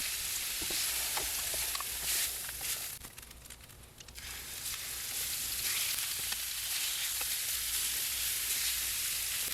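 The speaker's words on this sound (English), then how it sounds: "I add some olive oil to a hot pan and then add each one of the pork chops to obtain a really deep and rich sear on each side" Pork chops searing in olive oil in a hot pan, a steady close sizzle and spitting crackle with a brief dip before resuming strong and continuous.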